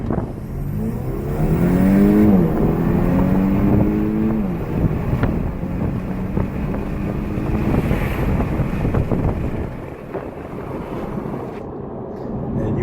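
A 2018 Audi A5 Sportback engine with an aftermarket 034 Motorsport intake revs and accelerates near 90 mph, its pitch sweeping upward then settling into a steady drone under heavy wind rush from open windows.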